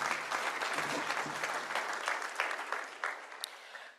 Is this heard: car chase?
no